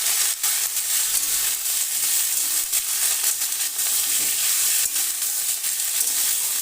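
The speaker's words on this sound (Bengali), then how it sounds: "তেলের মধ্যে ফুলকপিটা ভেজে উঠিয়ে নেব।" Cauliflower pieces fry in hot oil for fish curry, giving a steady, close sizzle throughout with occasional sharper crackles and stirring scrapes, no voices.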